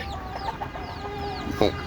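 Free-range chickens kept in an open yard in warm weather, clucking softly and intermittently through the clip, with one louder, closer cluck near the end.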